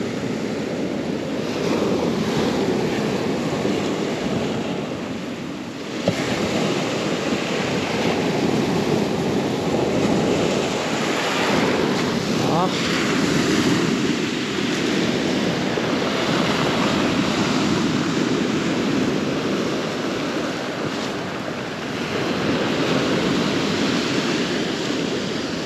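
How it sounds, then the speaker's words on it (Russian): Sea waves rolling onto the shore at Lazarevskoye on the Black Sea coast near Sochi in January, a steady loud broadband surf wash with wind, continuous and unbroken, no voices. "Наверное, мне стоит помолчать немножко, дать вам пару секунд послушать море."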